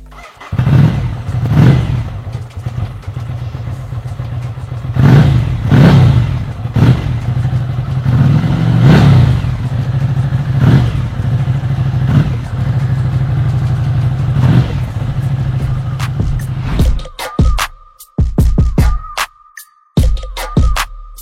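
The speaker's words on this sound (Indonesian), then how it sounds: "sekarang kita nyalain aja langsung. Ducati Scrambler ini. Dan kalian dengerin gimana sih suaranya" A 2018 Ducati Scrambler Classic motorcycle starts up, then gives a series of sharp throttle blips over a lumpy idle before cutting off, with a few final clunks.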